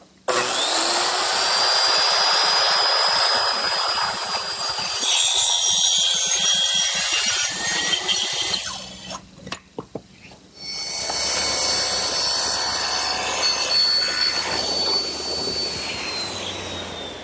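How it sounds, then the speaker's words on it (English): A circular saw rips through a clamped wood panel guided along a straight edge, cutting a desk top at an angle in a woodworking shop; the loud whining cut runs steadily for about eight seconds, drops briefly, then starts again and continues. "I'm going to use my circular saw up against it"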